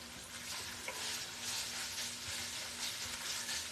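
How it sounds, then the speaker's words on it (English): Fake pancetta sizzling in a hot pan, with a steady close crackle of frying fat and soft scraping as it is stirred, all the way through and with no voices. "Just over here, stirring the fake pancetta."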